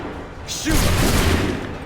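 A loud, dense burst of gunfire erupts partway through, a single volley of musket shots in the Assassin's Creed III video game, with a boomy low end and a trailing rumble.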